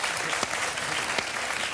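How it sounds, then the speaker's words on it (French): A studio audience at a TV show broadcast from Cannes applauds in a steady, dense burst of clapping, loud and continuous with no voices over it. "Applaudissements."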